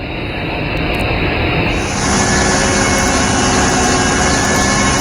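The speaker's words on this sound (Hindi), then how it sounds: "तो वायुसेना के हेलीकॉप्टर से रेस्क्यू ऑपरेशन की ये तस्वीरें आपकी स्क्रीन पर हैं।" Air Force rescue helicopter flying over flooded Bastar in Chhattisgarh, a loud, close, continuous engine and rotor drone that grows slightly louder and brighter about two seconds in.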